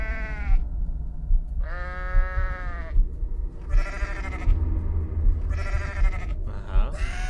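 Goat screams in the video game Goat Simulator, four or five loud, drawn-out bleating cries in a row with short gaps between them over low game background noise.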